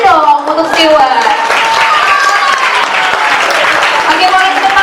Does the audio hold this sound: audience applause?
yes